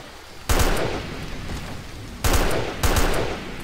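A jeep-mounted machine gun fires in a military shooter game, three sharp onsets of rapid automatic bursts, loud and close, each decaying into a sustained rattle and rumble, with no voices.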